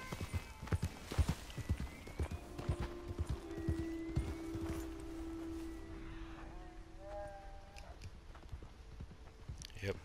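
Horse hooves clip-clop in a rhythmic walking beat in a video game, close and fairly quiet, with a short whinny partway through and someone talking over it.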